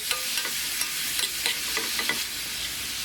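Prawns hit hot butter and garlic in a pan with a steady, close sizzle, broken by a run of sharp scrapes as they are stirred.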